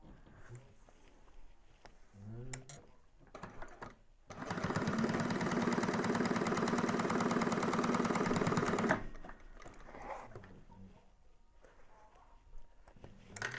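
A sewing machine stitches a drop-in bag lining seam in one steady, loud run of rapid mechanical whirring lasting a few seconds, with quieter handling sounds and a voice before and after.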